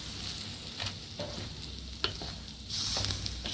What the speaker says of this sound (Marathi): असं सर्व एकत्र परतून घ्यायचं आहे आपल्याला.